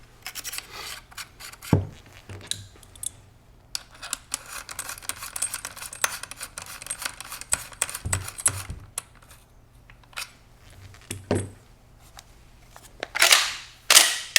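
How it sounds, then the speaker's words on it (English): Metal clicks, scrapes and a few sharp snaps as the magazine cap and choke tube go back onto a Benelli M4 Tactical shotgun during maintenance, close and intermittent. "We can then install the magazine cap, reinstall our choke tube"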